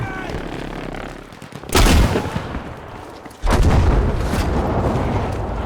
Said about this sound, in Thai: ระเบิดลงมายะ